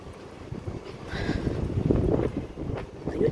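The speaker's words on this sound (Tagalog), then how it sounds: "Lakas ng hangin." Strong wind at an open roadside bus stop with no shelter, a steady low rumbling roar of gusts hitting the microphone that grows stronger partway through, with no talk.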